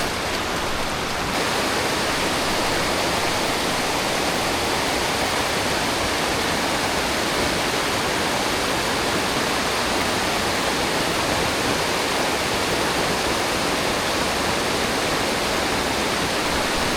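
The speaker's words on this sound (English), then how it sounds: "I'd imagine it's gotta be under this waterfall here." Waterfall on a steelhead stream, a loud, steady roar of rushing water filling the whole scene without pause.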